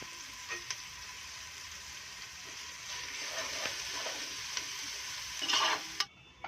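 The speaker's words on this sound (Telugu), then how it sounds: "అల్లం అల్లం వెల్లిపాయ పేస్ట్ వేసుకొని మంచి మిక్స్ చేయాలి" Ginger garlic paste fries in oil with turmeric in a pan while being mixed, a soft, even hiss with occasional spoon scrapes that builds slightly, then cuts off suddenly near the end.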